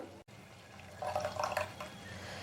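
About half a cup of water splashes briefly into a rinsed electric mixer grinder jar in a home kitchen, a soft one-second pour amid quiet room noise.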